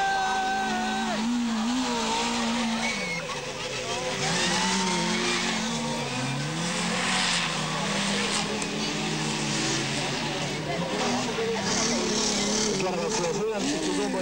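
Demolition-derby race cars at speed on a track in Soltvadkert, engines droning and revving with tire squeal as one car slows, under a continuous excited commentator's voice.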